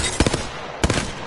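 Two short bursts of close-range hip-fire from a weapon in Apex Legends, each a quick cluster of three or four loud sharp shots separated by a brief pause.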